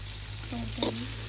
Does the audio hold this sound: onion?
yes